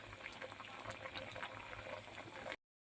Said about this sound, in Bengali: জলপাই আচার বানাবো, এই জন্য জলপাইটা সিদ্ধ দিচ্ছি